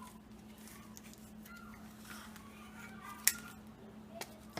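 Scissors snip through a thin gallon-sized plastic zipper bag in a kitchen, quiet crinkling and a few faint cuts with one sharp click, close but soft over a low steady hum, no talking.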